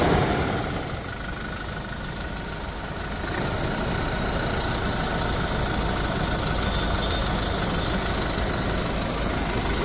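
A 2018 Toyota Innova Crysta 2.4 Z diesel engine idles with a steady, fairly quiet low hum and faint mechanical ticking, with no talking.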